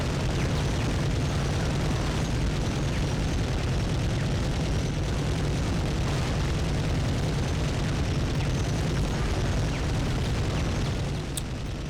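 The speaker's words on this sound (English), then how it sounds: "I'm gonna get on that machine gun and start shooting things" Sustained, dense mechanical roar of a mounted machine gun firing in the shooter game Medal of Honor, a steady rattling barrage with low booming weight that runs without pause at constant loudness, no voices present.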